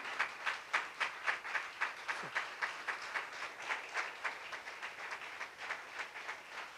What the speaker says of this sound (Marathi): एक अशी टाळी वाजवा